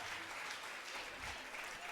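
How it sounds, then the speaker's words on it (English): Applause from the audience at a school annual day celebration, a steady broad wash of clapping that holds evenly for about two seconds at moderate loudness. "Give a big round of applause"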